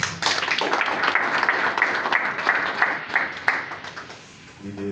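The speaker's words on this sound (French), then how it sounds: "je vous demande d'applaudir très très fort" A press-conference audience applauds an artist at the presentation of her maxi single, sustained even clapping that eases off near the end as a voice begins.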